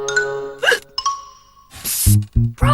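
A cartoon character hiccups loudly several times in quick succession, sharp voiced gulps with short gaps, mixed with cartoon sound effects and chimes.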